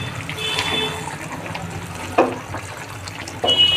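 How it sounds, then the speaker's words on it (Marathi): Hot water is poured into a cooking vegetable dish, a close splashing, gurgling liquid sound with brief louder bursts as the flow hits the pan. "आता याच्यामध्ये गरम पाणी टाकत आहे आणि छान असं हलवून घ्यायचं"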